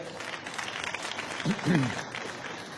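Audience applause in a TV quiz studio, a broad, steady patter of clapping that runs through the whole stretch while a voice speaks over it.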